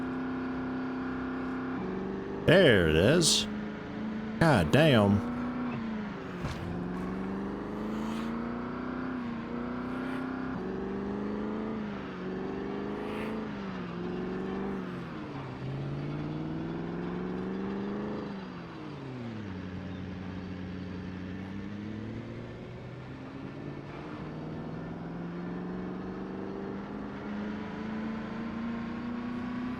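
Car engine in the video game Project Zomboid revving long and hard through repeated rising whines in the same gear, the pitch climbing and dropping, then settling into a sustained drone, with someone briefly talking over it.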